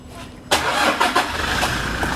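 An Isuzu D-Max 1.9 Z Prestige diesel pickup starts with a sudden close cranking catch, then settles into a steady idle that runs to the end.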